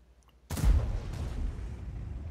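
A single loud, close tank cannon shot in World of Tanks bursts abruptly after near silence, followed by a long, rumbling decay with a faint second echo.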